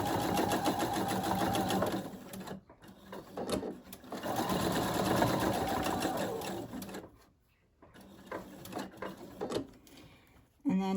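A sewing machine stitches fabric in long steady runs of rapid mechanical whirring, stopping briefly between passes, close up, with a voice speaking around it.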